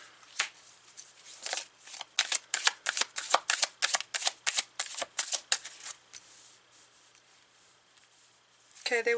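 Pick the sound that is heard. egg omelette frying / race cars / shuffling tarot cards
shuffling tarot cards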